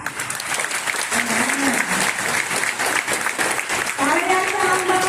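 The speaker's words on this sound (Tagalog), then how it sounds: "Sabayan po kayo pumalakpak sa bawat isa." Audience at a grade 9 recognition day ceremony applauds steadily for several seconds, a dense wash of clapping with a voice speaking over it near the end.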